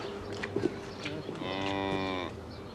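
A heifer lowing on a farm, one long, drawn-out moo near and loud, preceded by brief scuffles and faint farmyard noise.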